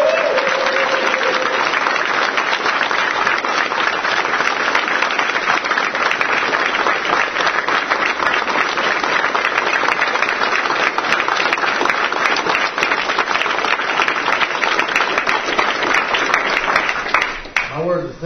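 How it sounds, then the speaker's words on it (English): A crowd at a Brazilian jiu-jitsu gym claps loudly and continuously for two new BJJ black belts, a dense, sustained roar of hands with voices mixed in, cutting off abruptly at the very end. "Clap up for the two guys."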